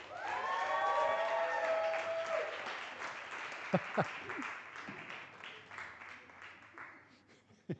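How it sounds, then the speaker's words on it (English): A crowd at a poetry slam event in Cape Town claps and cheers, with high whoops early on over a loud wave of applause that gradually fades to scattered claps. "A big applause for Pat Robert Larubi."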